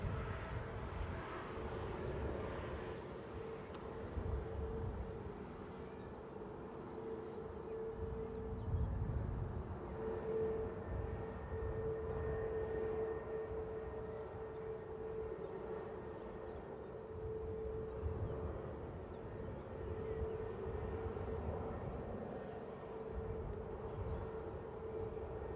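An SAS airliner departs Manchester Airport, heard as a faint, distant, continuous engine rumble with a low steady drone and a soft whining tone that holds for the whole stretch.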